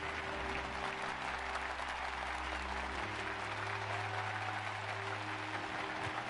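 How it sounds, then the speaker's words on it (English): Steady clapping from Zuyaya in the video game Final Fantasy XIV: Dawntrail, a continuous crowd-like applause sound layered over low background music and hum. "And then Zuyaya starts clapping"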